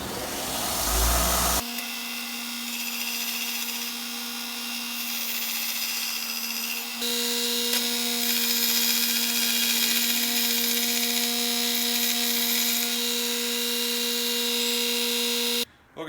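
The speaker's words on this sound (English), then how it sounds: "I'm going to go ahead and sharpen it up. It's a little easier to work with here. So fire this belt sander up and see what we can do." A belt sander sharpening the head of a splitting maul starts up after a brief pause, then holds a steady, loud motor whine with a harsh grinding hiss for about fourteen seconds before cutting off abruptly near the end.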